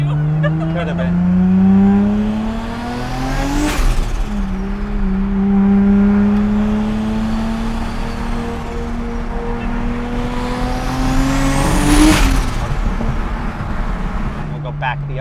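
A Toyota Supra with very old front tires drives and accelerates, its engine note rising loudly through two long pulls with a sharp peak and drop at each shift, close and continuous.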